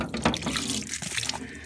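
Leftover water spilling from a disconnected line on the water tank of an off-grid mobile kitchen trailer, a brief close splashing trickle.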